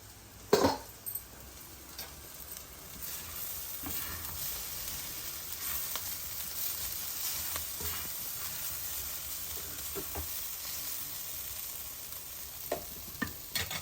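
Drumstick leaf fry cooking in a pan, a quiet steady sizzle with occasional stirring scrapes and a sharp clink near the start.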